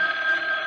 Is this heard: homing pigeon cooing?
no